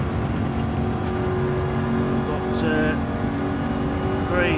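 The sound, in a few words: Ford Mustang race car engine revving, racing video game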